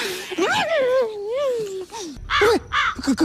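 Crow cawing in a Hindi comedy film scene, a run of harsh, close caws with squawky pitch bends, loud and fairly clear while a voice talks around them.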